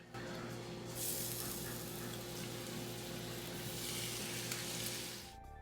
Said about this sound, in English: trying to capture the initial sizzle of the steaks going into the cast iron skillet